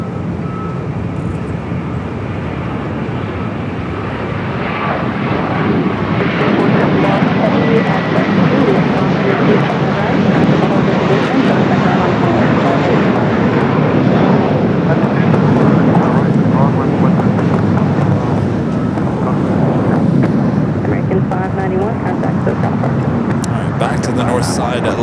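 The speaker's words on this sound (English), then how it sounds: "A330-200 coming in from Barcelona, flight 2623." An Airbus A330-200 airliner landing at LAX after a flight from Barcelona, a steady broadband jet roar that swells after the first few seconds and holds loud and close throughout, with a voice talking over it.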